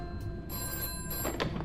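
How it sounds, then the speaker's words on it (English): In a FNAF fan video game, a telephone rings in a steady electronic trill, loud and close, repeating in short bursts with no talk over it. "we get this phone call."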